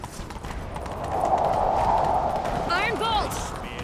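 A horse gallops in The Witcher III Wild Hunt during a chase, its hoofbeats rising to a steady rhythmic clatter. Game music plays underneath, and a short, swooping voiced sound cuts in near the end.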